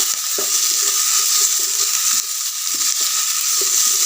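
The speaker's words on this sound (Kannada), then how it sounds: "ಈಗ ನಾವು ಫ್ಲವರ್ ಮತ್ತು ಬೀನ್ಸನ್ನು ಹಾಕೊಳ್ಳೋಣ. ಇದನ್ನೇ 1 ನಿಮಿಷ ಚೆನ್ನಾಗಿ ಫ್ರೈ ಮಾಡ್ಕೊಳ್ಳೋಣ." Cauliflower and beans fry in a pan with a loud, continuous sizzle, broken by occasional low scrapes and taps as they are stirred. No voices are heard.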